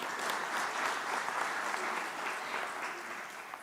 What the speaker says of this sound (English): I feel like the Professional Standards Committee deserves a better round of applause.